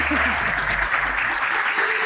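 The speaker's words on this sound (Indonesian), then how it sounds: "Tepuk tangan lagi dong." Studio audience applause on an Indonesian talk show, dense steady clapping throughout, with a voice briefly heard at the start.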